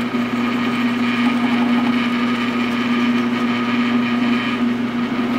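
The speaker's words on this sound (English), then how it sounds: "and just start drilling holes." A power drill whines steadily at a constant pitch, loud and close, drilling holes in a wooden drawer front without pause through the whole stretch.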